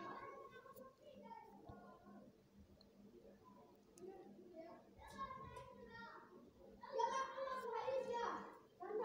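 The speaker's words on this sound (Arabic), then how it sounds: "اسفة عشان صوت العيال في الشارع" Children's voices drift in from the street outside, distant chatter and calls rising and falling, with a louder burst of shouting near the end.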